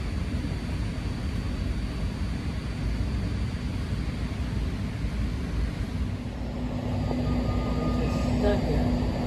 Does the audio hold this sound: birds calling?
no